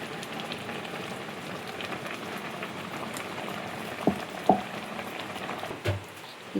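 A pot of cucumber sambar simmers with soft, steady bubbling, and a few faint clicks and taps come from the pot.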